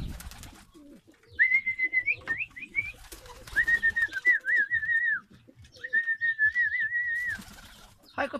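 Pigeons outdoors on a sunny day give several drawn-out, wavering coos and whistly calls in close succession, fairly near and clear, with a man calling out in a low voice in the background.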